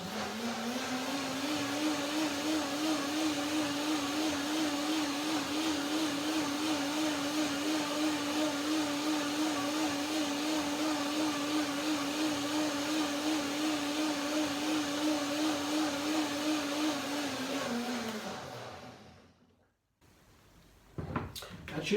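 A blender whirs steadily while blending a cashew and date dressing. The loud, continuous motor hum with a slight wobble runs for about eighteen seconds, then winds down and stops.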